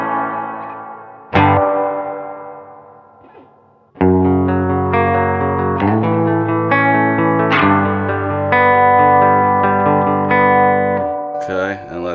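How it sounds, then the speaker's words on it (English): Electric guitar played through a UAFX Galaxy '74 pedal set to reverb only, sustained chords ringing with a lush spacious tail, loud and close, with no talking over the notes. "now you could take off the delay altogether and just have the reverb"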